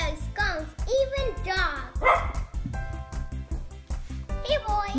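A dog barks and yips repeatedly at close range in a kitchen, mixed with excited whining, while a person talks over it.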